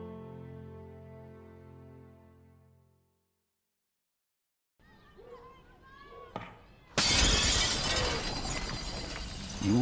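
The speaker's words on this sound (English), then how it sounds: "You won't just hear glass break." Glass shatters loudly in a surround-sound effects demo, a sudden crash with a long bright tinkling spray of shards, following a sustained tonal hum, a pause, and scattered rising whistles and clatter.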